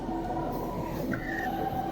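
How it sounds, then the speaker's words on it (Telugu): A train on the Visakhapatnam to Araku line rushes along at speed with a steady rumbling roar, a brief metallic squeal rising over the noise partway through. "ట్రైన్ అయితే గట్టికి స్పీడ్ కొడుతున్నాడు, మామూలు లేదు"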